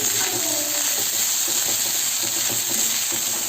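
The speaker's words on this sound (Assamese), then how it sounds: "এনেকৈ ঘনে লৰাই ভাজি থাকিব নহ'লে লাগি ধৰিব" Food frying in a pan while being stirred often, a loud, continuous close sizzle with a steady hiss and repeated scraping, stirring taps running through it.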